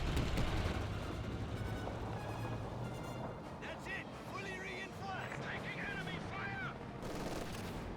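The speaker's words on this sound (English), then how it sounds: "Up north, got the MG42 firing away against the assault section." An MG42 machine gun in the Company of Heroes 2 battle fires rattling bursts amid dense combat noise, while a commentator's voice runs over the top.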